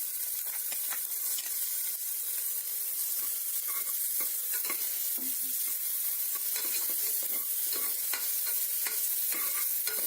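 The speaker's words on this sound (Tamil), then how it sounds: "அதை வதக்கிடலாம்." Sliced onion and green chilli sautéing in hot oil in a pan, a continuous bright sizzle with scattered crackles and stirring scrapes, steady and close with no talking.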